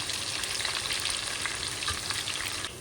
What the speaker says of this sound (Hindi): तो मैंने गरम तेल में प्याज डाल दी है